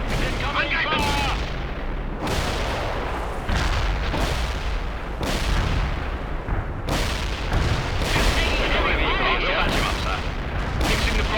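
Battle in the video game World in Conflict, with dense, continuous gunfire and booming artillery blasts repeating every second or two, loud and close, alongside faint radio-style voices.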